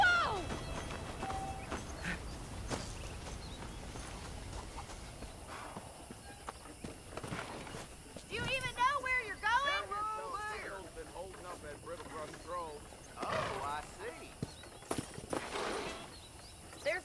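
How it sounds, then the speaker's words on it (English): In the video game Red Dead Redemption, saddled horses clop along with a steady hoof rhythm over ambient background, and a horse whinnies partway through, with a few louder bumps and rustles. "The horses are saddled up over here."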